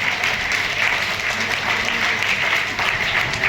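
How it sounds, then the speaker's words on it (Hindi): A crowd of children and adults at a school event with an international shooter claps steadily in sustained, dense applause that carries evenly from start to finish, with no talk above it. "तालियां जितेंद्र जी के लिए भी"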